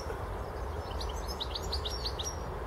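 A bird sings at an allotment in a quick run of high chirps, moderately near, over a steady outdoor background hiss.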